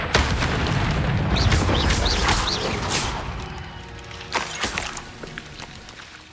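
Spell explosion from the Confringo fire curse in the video game Hogwarts Legacy: a loud, sustained rumbling blast with crackling bursts and a few sharp impacts trailing off near the end.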